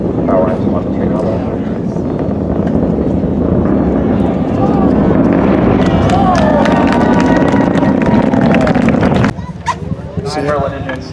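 Merlin engines of a SpaceX Falcon 9 firing during launch near Cocoa Beach, a loud continuous roar that swells slightly midway, then drops off near the end, with people talking throughout.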